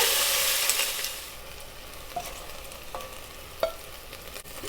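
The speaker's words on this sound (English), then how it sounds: "now I'm going to add half of the beef stew meat to sear it." Beef stew meat sears in olive oil in a pot. A loud hiss at first settles into a quieter steady sizzle, with a few sharp spatters and pops close by.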